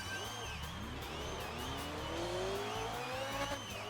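An Outrun 2 car engine drones steadily at high revs, its pitch sweeping upward as the car accelerates, with a continuous, loud racing tone and no talking.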